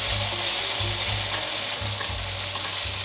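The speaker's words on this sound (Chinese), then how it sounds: "再让它铺平均，稍微煎一下。" Shredded cabbage and potato are pan-fried in a wok for a vegan dish. A close, loud, steady sizzle runs throughout, with rhythmic low scrapes from a spatula pushing and spreading the food.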